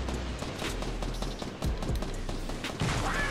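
Gunshots in a Fortnite battle royale match, a quick series of sharp cracks and bursts over a steady game background, with a louder shot near the end.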